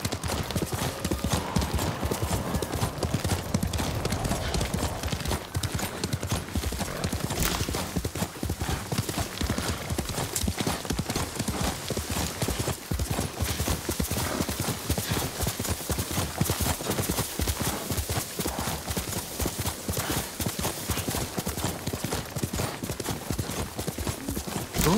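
Steady clip-clop of horse hooves at a gallop in Ghost of Tsushima Director's Cut on Iki Island, continuous and fairly close, with a faint rumble of movement underneath and no talking.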